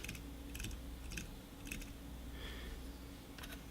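A Logitech MX Master mouse scroll wheel spinning in ratcheting mode gives short bursts of rapid clicking, about six quick ticking runs, faint and close over a steady background hum.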